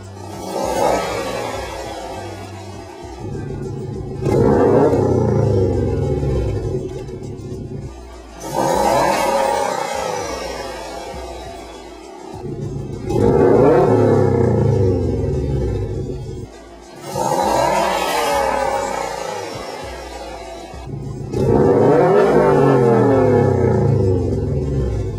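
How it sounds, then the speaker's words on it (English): A Subaru WRX STI fitted with a Crawford Gymkhana exhaust revs repeatedly, about five loud throaty bursts that climb and fall away, each separated by a short idle lull, close and alone. "a sound comparison between the stock exhaust and the Crawford Gymkhana exhaust at different engine"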